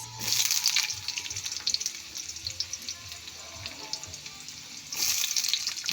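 Onions drop into a hot pan already holding fried garlic and fried tofu, bursting into a loud sizzle that eases to a softer crackle, then swells again near the end.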